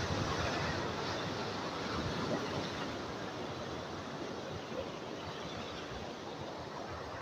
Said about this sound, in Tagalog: Grabe yung mga alon